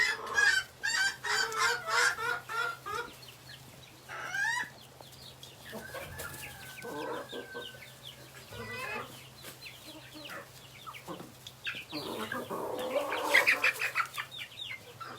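Chickens, including a Peking cross, clucking and calling on roosting branches at a farm, with repeated close clucks and honking calls over a low steady hum, busiest at the start and again near the end.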